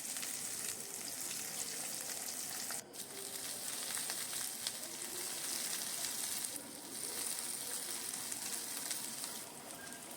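Sliced onion and slit green chillies frying with garlic in hot oil, a dense, continuous crackling sizzle at close range with faint stirring, no voices.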